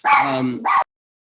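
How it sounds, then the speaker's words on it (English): Dogs close by let out two loud, rough barks, a longer one followed quickly by a short one, then silence. "There's dogs here."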